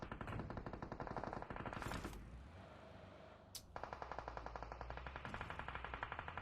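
Rapid automatic gunfire being sprayed in the mobile game PUBG Mobile, loud and close, with long bursts of evenly spaced shots, a brief pause and a sharp crack, then more sustained fire.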